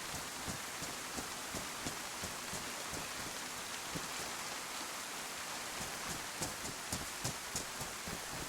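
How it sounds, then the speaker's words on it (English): Steady rain in the game DayZ pours down with dense hiss and frequent small drops pattering on surfaces, continuous and fairly close throughout. "They can't hear you very well when it's raining."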